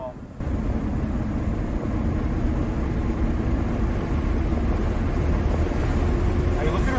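A Honda Civic EG hatchback cruising at about 60 mph, with steady, loud broadband road and engine roar and wind rush filling the cabin continuously, with no breaks.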